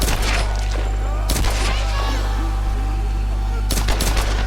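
Loud, rapid gunfire from the video game Tomb Raider, fired with unlimited ammo, comes as dense bursts over a constant low hum, with heavier blasts near the start and end.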